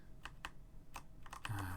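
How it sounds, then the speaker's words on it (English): Computer keyboard typing: a handful of separate, crisp keystrokes tapped at an uneven pace close by, with a low hum creeping in near the end and no talking. "let me see if I can just keyboard this"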